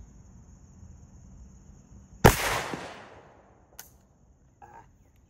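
A single sharp gunshot from a 5.56 rifle firing an anti-drone sabot round cracks loudly up close and rings into a short decaying tail. A faint click follows, then a brief murmur.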